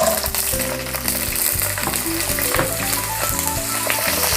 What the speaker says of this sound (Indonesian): Lanjut saya goreng cabai rawitnya ya.